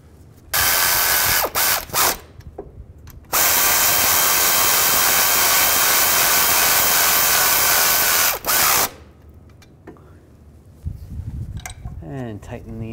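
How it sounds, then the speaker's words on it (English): An impact-style power tool tightens nuts on a catalytic converter of a 2008-2012 Ford Escape, firing in two short bursts and then one long loud run, followed by a brief burst and quieter clinking and ratcheting at the end. "And tighten these nuts down."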